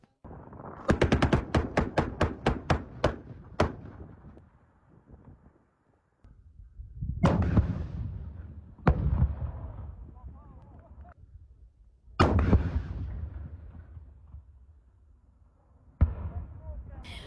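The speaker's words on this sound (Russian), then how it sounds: "сами произвели выстрелы из крупнокалиберного пулемета" A heavy-calibre machine gun fires a rapid burst of about a dozen shots during military exercises, then single loud booming shots follow at intervals, echoing outdoors.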